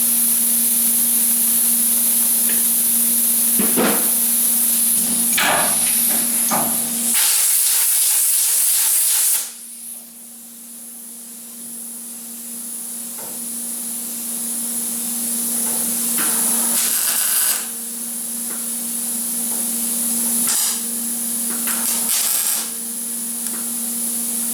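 Welding on the quarter panel of a 1977 Camaro Z28, heard as a steady hiss and buzzing crackle with a constant tone, carrying on through several bursts and pauses at close range.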